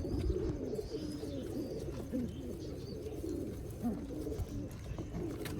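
Rare pigeons of a Sialkoti black-faced Mian Nazir bloodline on a rooftop loft in Sialkot, cooing steadily and close, several birds overlapping in soft continuous low calls with no one speaking.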